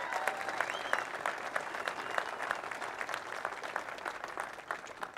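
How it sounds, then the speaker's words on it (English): Audience applauding Kevin Miller at an Idaho Second Amendment Alliance event, a steady, dense patter of many hands clapping throughout, moderately loud with no talk over it. "So a big round of applause for Kevin Miller"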